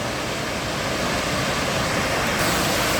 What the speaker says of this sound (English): Here's another view of the waterfall. It just cascades so smoothly over that rounded volcanic surface.